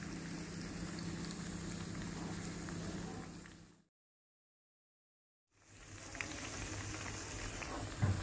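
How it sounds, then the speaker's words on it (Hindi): Bread slices sizzle and crackle as they fry in hot oil for a sweet Eid dessert, a steady broadband hiss that cuts out briefly to silence partway through, then resumes. "ऑयल जब गर्म हो जाएगा तो एक एक करके ब्रेड स्लाइस इसमें डाल देंगे, उनको यहाँ पर हम फ्राई कर लेंगे"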